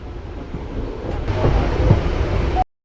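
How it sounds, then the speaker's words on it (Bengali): An Azimganj MEMU passenger train pulls into Berhampore Court station, a loud rumbling roar with wind buffeting that swells toward the middle and continues until the sound cuts off abruptly near the end. "দেখতে পাচ্ছেন বহরমপুর কোট রেল স্টেশনে ঢুকছে ট্রেন।"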